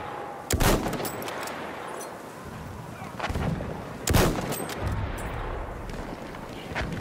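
Machine gun fire in a video game combat zone: sharp loud bursts near the start and middle over a continuous rumble of battle noise, with scattered distant shots between.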